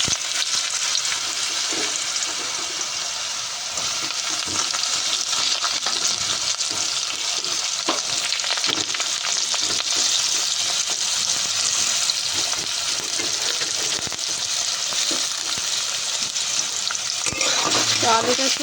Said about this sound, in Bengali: তেল গরম হয়ে গেছে, এবার আলুটা দিয়ে দেবো।